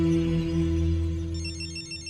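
A telephone rings in a Hindi comedy film scene: a repeated, bright electronic ring pattern enters about halfway through over a steady low hum, with no one talking.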